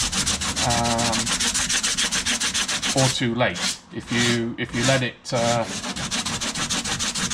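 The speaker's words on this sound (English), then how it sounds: "you get a feel for when to start sanding, because you don't want to sand too early" Rapid back-and-forth sanding of fiberglass filler on motorcycle bodywork scrapes and rasps steadily and loudly, continuing while a person speaks briefly over the strokes.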